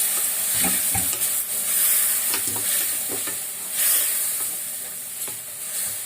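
Prawn gravy bubbles and sizzles steadily in a pan, a close, continuous frying hiss with small stirring clatters scattered through it and no voices.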